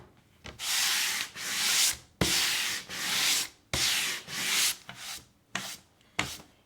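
Sandpaper rubbing back and forth over a painted wooden board, eight or so close, loud scratchy strokes with short pauses between them, no voices.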